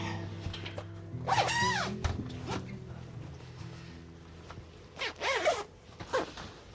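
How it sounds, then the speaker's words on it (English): Zippers pulled along caravan bedding sections, two quick rasping zips separated by quieter rustling and handling of fabric, close and clear. "And we just start zipping, zipping, zipping, zipping."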